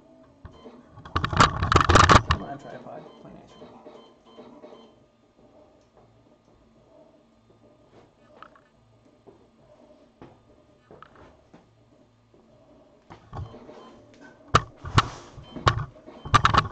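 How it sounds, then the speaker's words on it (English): An Ultimaker 3D printer runs nearby in a workshop, its motors giving bursts of rapid ticking and clattering at the start and end with quieter whirring and sparse clicks in between. "There goes the Ultimaker cranking away."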